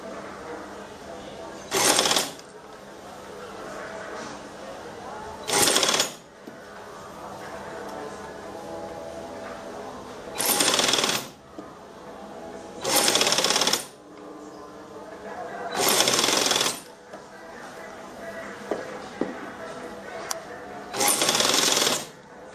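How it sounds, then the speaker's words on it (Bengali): A sewing machine stitches a nighty in six loud, short whirring bursts separated by pauses, with a person talking quietly in between. "এই সেলাই এদিক দিয়ে আমি দিচ্ছি এটা"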